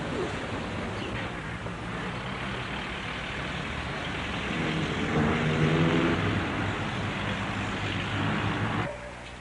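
Car traffic on a city street in Lima, Peru, forms a steady broadband roar of engines and tires that swells slightly toward the middle and drops off abruptly near the end, with no clear voices.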